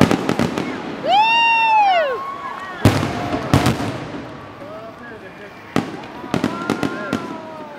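A fireworks finale booms and crackles in loud, sharp bursts, some with whistling rising shells, heard from a crowd with people talking nearby between explosions.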